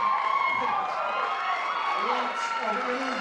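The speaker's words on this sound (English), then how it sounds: "great crowd. You guys are really loud." A pageant audience at the Mrs. Colorado event cheers and whoops in a sustained, fairly loud roar, with voices rising above the crowd noise.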